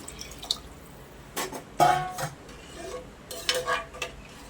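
Dal khichdi with coriander stirred in a pressure cooker pot, with scattered scraping and clinking bursts of a utensil against the pot, close and uneven.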